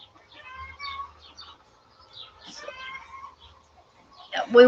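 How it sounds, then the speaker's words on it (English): Chickens cluck and chirp outdoors in scattered, faint calls at a middle distance, followed by a louder burst near the end. "those chickens are everywhere making gobs of noise"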